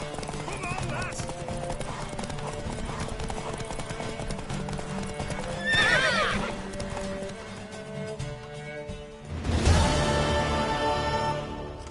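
A horse in The Witcher 3 gallops with rhythmic clip-clop hoofbeats and whinnies, surges of movement and a louder burst near the end, with a voice speaking over parts of it.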